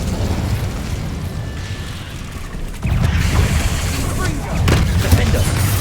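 A fiery Incendio spell in Hogwarts Legacy erupts with a loud whooshing burst partway through, followed by a second rumbling flare amid ongoing combat noise.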